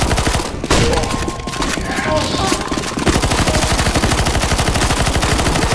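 A minigun fires at zombies in the video game CS:GO Zombies: a loud, rapid, steady stream of shots that grows into a dense, evenly pulsing rattle, with no talk over it.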